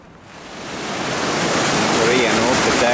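Two mountain rivers meet in a Norwegian valley, a steady broadband rush of flowing water that swells from quiet to a loud, continuous roar and holds there.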